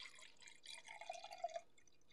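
Rosé wine pours from a bottle into a glass in a quiet room, making a faint, steady trickle that gurgles and splashes near the end. No one talks.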